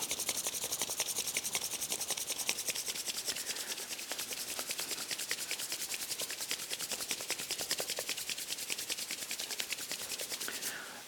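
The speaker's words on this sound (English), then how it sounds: "just intensely rub these two hands together for a minute" Two palms rubbed together hard and fast, a continuous rhythmic rasping swish of skin on skin repeated rapidly and evenly for over ten seconds, close up with no talk.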